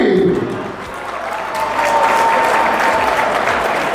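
An audience at a gathering breaks into loud, sustained applause, a dense wash of many hands clapping that swells and holds steadily throughout, close and filling the room.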